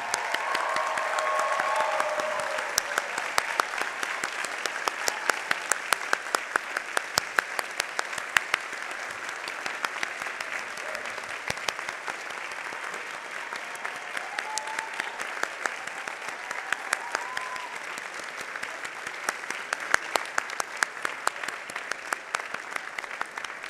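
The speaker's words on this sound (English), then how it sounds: "stand up, turn around, applaud family and friends who made this day possible" Sustained applause from a law school commencement audience, with many hands clapping steadily as a dense, even wash for over twenty seconds, fairly distant and gradually thinning slightly toward the end.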